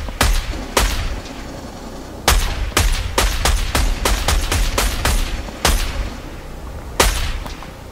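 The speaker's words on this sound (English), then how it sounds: "Let's go with light machine gun" Light machine gun fire in Fortnite comes in sharp, loud bursts of rapid shots, some separated by short pauses, with impacts on a wooden structure.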